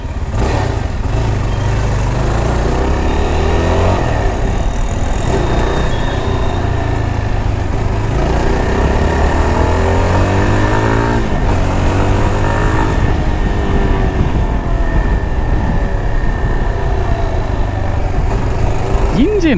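Yezdi Adventure motorcycle engine running steadily while being ridden, a loud continuous drone with a slight rise and fall, with someone talking over it throughout.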